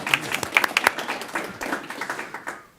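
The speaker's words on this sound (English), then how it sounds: "just to give you a little background on Tom, you can clap if you want." A small burst of audience clapping at a regional transportation commission meeting, a few seconds of scattered hand claps that thin out and fade.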